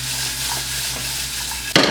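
Potatoes sauteing in hot oil in a pan give a steady, close frying hiss with stirring, then a sudden louder sizzling burst at the very end.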